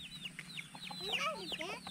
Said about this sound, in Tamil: இங்கே பாருங்க எவ்வளோ கோழி வளர்க்குறாங்க பாருங்களேன்.